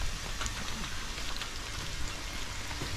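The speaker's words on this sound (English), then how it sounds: "Of course, it's gonna start raining harder now" Rain pours steadily outdoors over a wetland recovery site, a dense continuous hiss with scattered drop patter on the ground and equipment, fairly loud and close throughout with no talking.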